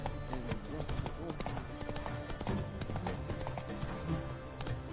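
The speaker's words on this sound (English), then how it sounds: "Run, Roach." Horse galloping in The Witcher 3 video game, with rapid, steady hoofbeats close up throughout under other game sounds, plus a rider's voice.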